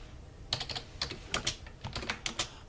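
Quick bursts of button presses on a calculator keypad while numbers are entered, a close, crisp run of clicks in short clusters with brief pauses, no talking.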